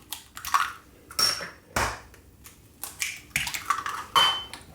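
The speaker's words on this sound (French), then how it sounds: "Maintenant, je vais casser mes 2 œufs dans le saladier." Eggs cracked on the rim of a mixing bowl in a home kitchen while making a marshmallow cake, a series of sharp clinking taps and knocks in short bursts, close and clear with no talking.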